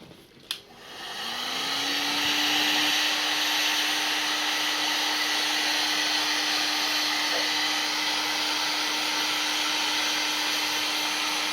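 A heat gun shrinks heat-shrink tubing onto a handmade 3.5 mm jack to RCA cable: a click, then a loud, steady blowing whir with a faint hum that runs unbroken to the end.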